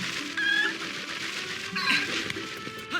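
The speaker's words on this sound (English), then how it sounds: "there's her cat that she was talking about that she couldn't find" A cat meows twice in The Legend of Zelda: Twilight Princess HD, each short cry standing out over steady game music and ambience.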